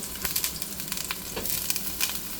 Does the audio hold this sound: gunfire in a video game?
no